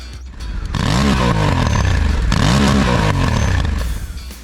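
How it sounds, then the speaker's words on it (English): Honda Africa Twin adventure motorcycle engine revving hard through rising and falling gear sweeps, a loud, close, continuous roar with two clear acceleration pulls. "Hitting top gear at number 9, Honda Africa Twin"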